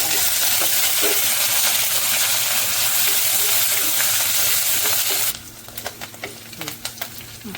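Green chillies and curry leaves drop into hot oil already frying ginger and garlic, giving a steady loud sizzle that suddenly brightens into sharper crackling and popping near the end.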